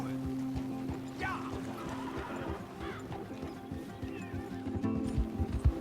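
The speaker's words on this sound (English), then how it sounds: "So we had a little gallop to the finish line." Hooves of a horse galloping in an endurance race pound in a quick rhythmic clip-clop, close and steady, with a low hum and a rider talking over the footfalls.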